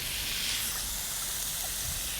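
Steady broadband hiss and sizzle of white wine hitting a hot pan, continuous and fairly loud throughout, with no talking.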